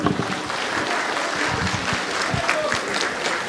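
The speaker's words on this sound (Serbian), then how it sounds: "Zaista ovo zaslužuje malo jači aplauz" Audience applause at a saz music festival concert in Srebrenik, a sustained wash of many hands clapping steadily, with faint crowd murmur beneath.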